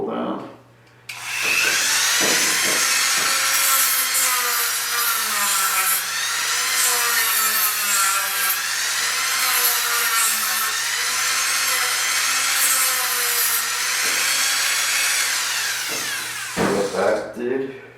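Power tool sanding out a hole for a filter intake tube on a homemade aquarium prefilter, a steady high-pitched whirring grind that runs almost unbroken for about fifteen seconds, close and loud.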